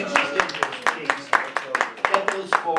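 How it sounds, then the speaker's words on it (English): Steady, evenly spaced clapping from a workshop audience, crisp individual claps repeating several times a second while a voice talks over them. "Give yourselves a big round of applause for being interested in those things."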